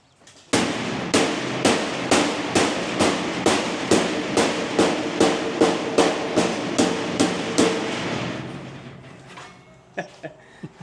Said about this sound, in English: sort of use a hammer with my left hand.